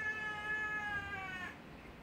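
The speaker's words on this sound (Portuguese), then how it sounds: "vocês estão vendo essa gata?" A cat meows in a long, drawn-out, wavering cry, up close and fairly quiet, then it breaks off toward the end into soft room noise.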